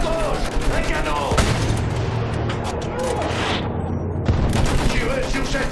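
Battlefield 1 game combat with rapid gunfire bursts and heavy cannon booms from tanks, loud and continuous, while a voice shouts orders over the shooting.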